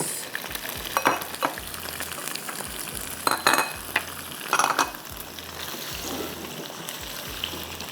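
Baby potatoes sizzle steadily in a hot pan over garlic for spiced achaari aloo, with occasional soft scrapes and clinks of a spoon stirring them. No one speaks.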